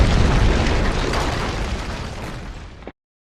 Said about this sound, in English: The cannon caused a massive avalanche of snow to fall on the Huns.